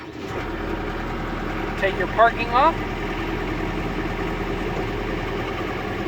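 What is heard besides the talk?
John Deere 326E skid loader engine idling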